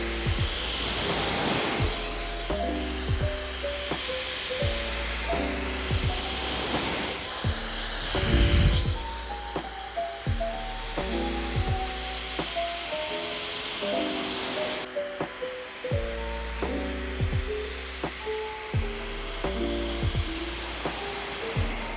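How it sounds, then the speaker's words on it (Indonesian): A Dyson Supersonic HD08 hair dryer fitted with its flyaway attachment blows with a steady whooshing whine, close and moderately loud, while a soft musical backing plays underneath. "setelah melihat hasil anginnya tadi, nggak heran banyak yang bilang hair dryer Dyson ini suatu merek hair dryer yang terbaik"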